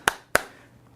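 Two sharp, close hand claps in quick succession, a brief pause between them, then quiet.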